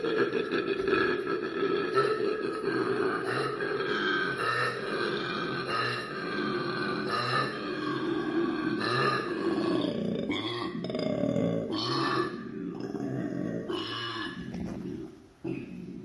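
A koala's deep, rasping bellows repeat in rhythmic snorting pulses, loud and close, a growling call rising and falling over about sixteen seconds.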